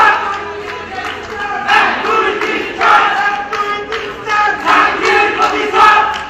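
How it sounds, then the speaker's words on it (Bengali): A large protest crowd chants slogans in rhythmic bursts, voices rising and falling in repeated call-like phrases, loud and close with shouting dominating throughout. "জাহাঙ্গীর তুই গদি ছাড়, দফা 1 দাবি 1 জাহাঙ্গীরের পদত্যাগ, মা বোনদের নিরাপত্তা দে, নইলে গদি ছাইড়া দে ইত্যাদি স্লোগান দেন"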